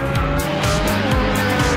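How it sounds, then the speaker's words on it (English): Formula 1 race cars at speed, with loud, high-pitched engine whine and tonal revving that rises and falls as the cars pass, continuous and close. "Niki Lauda wins the race by 34 seconds"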